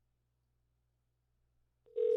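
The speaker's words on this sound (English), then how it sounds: "Actually, let's just call her." Telephone call being placed: near-silence, then a steady electronic ringback tone starts abruptly near the end, clear and alone with no talk.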